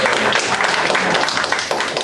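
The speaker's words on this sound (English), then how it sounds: "More clapping, more clapping." Sustained applause from a seminar audience, dense steady clapping filling the whole stretch at close, even loudness with no voices standing out.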